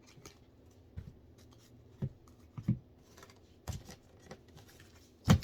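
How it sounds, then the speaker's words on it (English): Cards are shuffled in several short, crisp riffles spaced apart, with quiet pauses between them and no talking. "I just shuffled them a few more times with you."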